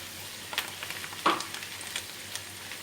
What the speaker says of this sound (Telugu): కరివేపాకు కూడా బాగా వేగే వరకు మనం పచ్చిగా అనేది లేకుండా ఉండాలి.